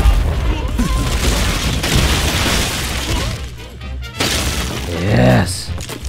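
Blocks of a toppling structure crash and break apart in the Angry Birds VR game, a loud run of booming thuds and shattering debris, with a voice briefly heard near the end.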